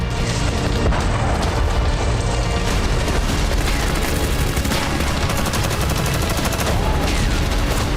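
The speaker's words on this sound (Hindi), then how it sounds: "बिस्मार्क से हो रही ताबड़तोड़ गोलाबारी का सामना हुड नहीं कर सका" Dense, continuous barrage of heavy booms and gunfire as the battleship Bismarck shells HMS Hood, loud and relentless throughout with no pauses.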